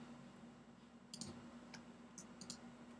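A computer mouse gives a few quiet, sharp clicks in small clusters over a steady low electrical hum, with no voices.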